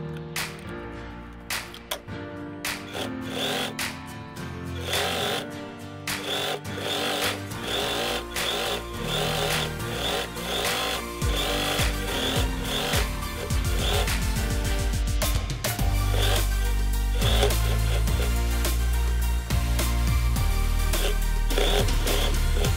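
A sewing machine runs in fast rhythmic bursts while stitching a fabric door draft stopper, its needle chattering loudly and steadily, pausing briefly between runs, with no voices over it.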